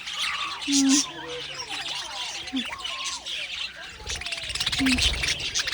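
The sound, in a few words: small pet birds squabbling while being hand-fed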